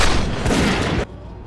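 Gunfire from a motorbike-riding shooter in a film scene, a loud dense blast of shots lasting about a second before cutting off to quieter background.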